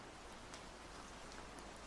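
Rain falls steadily on a virtual town in the game Resonite, a dense, even hiss with scattered soft droplet ticks, faint and continuous, with no one speaking.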